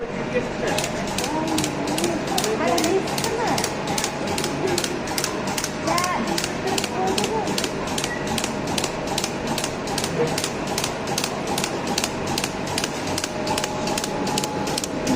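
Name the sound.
cake batter depositing machine running on compressor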